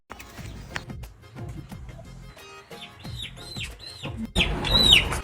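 Chickens cluck and chirp faintly at a bird seller's stall, short bursts scattered through the clip with louder squawks near the end over a busy background.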